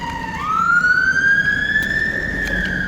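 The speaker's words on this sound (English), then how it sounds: "Oh, it's not ambulance, it's fire truck." A fire truck siren wails loud and close, one long tone that rises and then holds steady against a low rumble of traffic.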